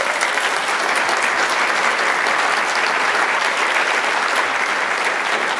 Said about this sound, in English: if we could please have a round of applause